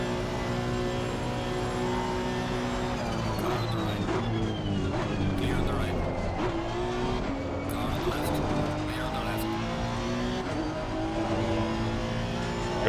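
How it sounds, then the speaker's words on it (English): A Ferrari race car engine at Imola in Assetto Corsa Competizione, a sustained high whine with gear-change sweeps as several cars run close together, and a commentator's voice faintly underneath. "Here comes the Ferrari."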